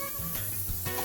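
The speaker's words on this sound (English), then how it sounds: "If you hear that going, that sizzling, you know it's right." Beef for lomo saltado sizzles in a hot pan, a soft steady hiss lasting about a second, fairly faint and close.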